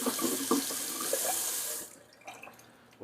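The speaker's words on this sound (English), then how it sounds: "empty the sink from the stubble, rinse off the Rockwell" A bathroom sink tap runs in a steady loud stream while a Rockwell safety razor is rinsed under it, then cuts off, leaving faint drips and small handling knocks.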